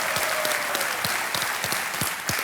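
A studio audience at the KBC quiz show claps continuously, a dense, steady burst of applause close up with no voices over it.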